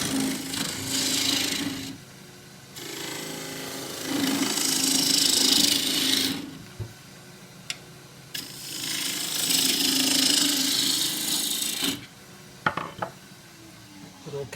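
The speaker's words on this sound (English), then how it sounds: "Still use the 1/2 inch spindle gouge." A half-inch spindle gouge cuts a wooden bowl blank on a lathe, giving repeated rasping, scraping passes of a few seconds each with short quieter gaps and a couple of sharp knocks.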